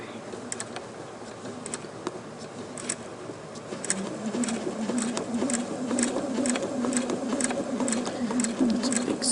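Quilting sewing machine stitching along a ruler, a quick even run of needle clicks with a buzzing motor hum that grows louder halfway through, near and close-up with faint talk.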